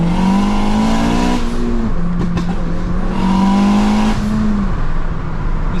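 A 500 bhp Honda Civic FN2 Type R is driven hard on a B-road, its engine loud and close, revving up through rising pitch, dropping back on gear changes, then climbing again.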